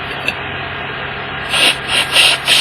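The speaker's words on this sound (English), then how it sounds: "That seems to be spraying quite well." Aerosol cleaner hisses in several short bursts through the jets of a Kymco People 50 scooter carburetor, close up, after a quiet stretch with a faint click.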